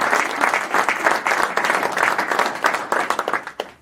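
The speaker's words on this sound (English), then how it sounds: "maybe a round of applause for him" A room of attendees at an annual report launch gives a round of applause, dense steady clapping at close range that thins into scattered individual claps near the end.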